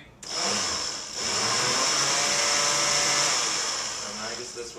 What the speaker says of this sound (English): we're going to have to get a better blender. This one kind of sucked